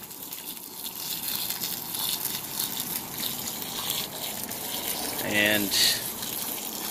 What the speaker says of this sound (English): I'm really just soaking it down with water. Just straight garden hose.